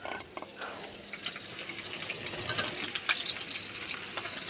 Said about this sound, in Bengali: এবারে এই সয়াবিনটাকে আমি ঢেলে দেবো।